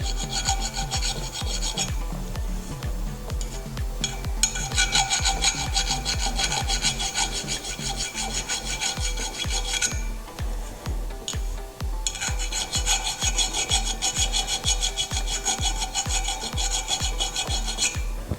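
A metal hand file rasps against the end of a go-kart rear axle in fast, regular back-and-forth strokes, loud and close, with two short pauses between steady runs and no speech.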